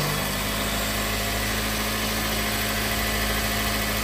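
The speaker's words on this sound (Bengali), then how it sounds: "ইঞ্জিনের সাউন্ডটা শুনতে পাচ্ছেন। এই যে দেখেন শুনেন ইঞ্জিনের সাউন্ডটা।" A 2019 Toyota Yaris engine idles steadily at close range, a constant low hum with a faint vibrating drone that holds level throughout, with no talk over it.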